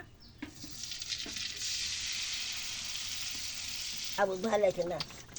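Pakan pitha, rolled rice cakes, fry in hot oil, giving a continuous even sizzle that holds for several seconds before a voice speaks over the end.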